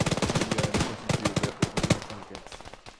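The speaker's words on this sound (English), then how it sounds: "I shoot you." Video game gunfire rattles out in close, loud bursts of rapid shots, several volleys separated by short pauses before trailing off.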